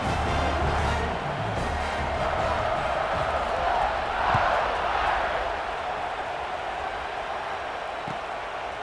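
Stadium crowd at a college football game between BYU and Notre Dame cheers steadily as the kickoff approaches, a broad continuous roar that swells briefly midway, with a commentator talking over it.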